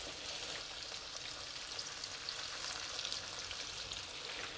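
Pork pieces fry in a wok with a soft, even hiss that keeps going throughout, heard at some distance and fairly quiet.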